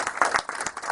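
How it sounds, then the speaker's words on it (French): A short burst of audience clapping at a fiftieth-anniversary ceremony for a graduating class, several quick sharp claps from nearby hands, brief and fairly faint. "Je veux des applaudissements."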